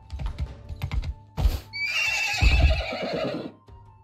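A video-game horse snorts and then lets out a long, loud whinny close by, with a few hoof clip-clops and soft thuds before it and the call fading out at the end.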